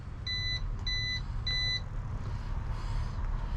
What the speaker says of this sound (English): it's beeping until it's connecting